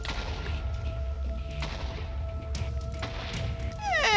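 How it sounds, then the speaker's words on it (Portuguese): Large explosion set off with a Blaze heart in Minecraft, a dull rumbling blast with low thuds and crackling debris, followed by a sharp rising burst near the end. "É uma explosão grande até."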